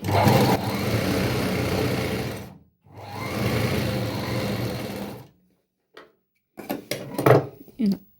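A sewing machine stitches a petticoat seam in close, loud bursts: a long run, a short pause, another run, then silence followed by a few short clicks and handling knocks near the end.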